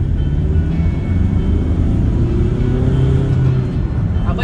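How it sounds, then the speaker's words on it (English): A Volkswagen Caddy van accelerates hard in second gear, its engine note a loud, steady rumbling drone rising slightly in pitch over about four seconds, heard from inside the cabin. "Do a little cheeky second gear pull."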